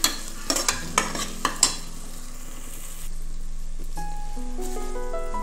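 A spoon scrapes and taps against a pan several times as a ground spice paste is stirred and fried. A sizzle runs underneath and continues steadily once the stirring stops, with no talking.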